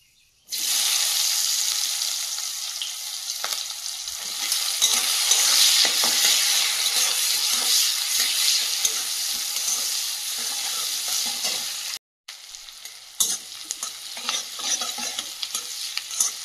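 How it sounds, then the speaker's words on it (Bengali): Chopped onion frying in a pan with already-toasted spices, a loud, steady sizzle with stirring throughout and a brief break near the end. "কুচিয়ে রাখা পেঁয়াজটা কিছুক্ষণ ভেজে নিয়েছি"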